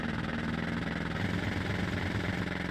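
A motorbike engine in the video game Tomb Raider: The Last Revelation idles with a steady, low rumbling purr, constant and unbroken throughout.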